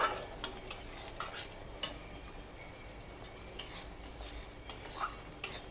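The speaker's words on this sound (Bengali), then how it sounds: "এটাকে বেশ খানিক্ষণ একটু নাড়াচাড়া করতে হবে এইভাবে" Tomato and date chutney being stirred in a pan, a steady scraping and spoon-on-metal clinks repeating at an uneven rhythm over a low background hiss, close and fairly quiet with no talking.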